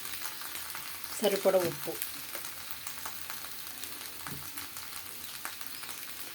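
Potatoes fry in a pan with turmeric, giving a faint steady sizzle with a brief burst of stirring and clatter early on, while a voice speaks briefly.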